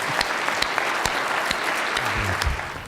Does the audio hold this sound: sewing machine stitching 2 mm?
no